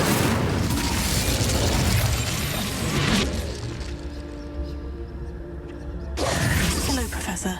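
Incendio fire spell cast in Hogwarts Legacy, a loud roaring whoosh of flame that dies into game music and ambience, then flares up again near the end.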